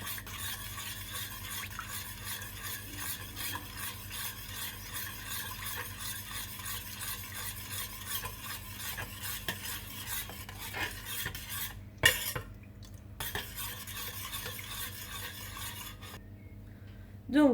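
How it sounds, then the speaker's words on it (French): Tomato paste being stirred into water in a pan with a utensil, a continuous soft scraping and swirling with faint sizzling underneath, a few sharper clinks of the spoon near the end. "Et je mélange pour diluer la tomate."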